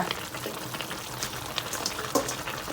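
Chicken stir-fries in a pan as spring onions go in, a close, busy sizzle with crackling bursts and a few sharper spits, no one talking.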